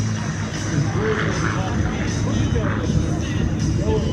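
T-34 trainer airplanes fly overhead at the 2024 Wings Over Camarillo air show. A steady propeller drone with a faint whine holds throughout, mixed with distant crowd or announcer voices.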